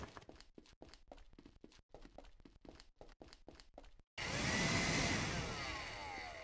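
A video game vacuum cleaner switches on after a stretch of rhythmic tapping steps, then roars loud and steady with a whooshing, shifting whine for the last two seconds.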